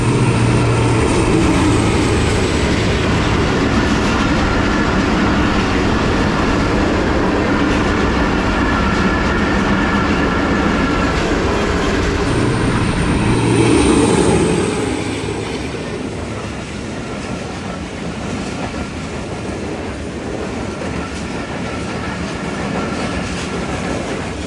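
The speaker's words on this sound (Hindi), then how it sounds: "39 अब जाफर एक्सप्रेस हरीपुर बांध रेलवे स्टेशन से पास थ्रू कर रही है" Jaffar Express passenger train passing through Haripur Band railway station in rain, loud and steady rumble with clickety-clack of wagons for the whole stretch, easing slightly near the end.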